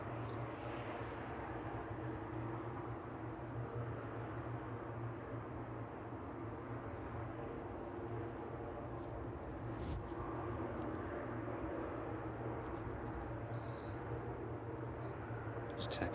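A cargo aircraft taxis in toward the maintenance sheds at East Midlands Airport on a chilly evening, a steady loud engine roar and whine that holds without a break.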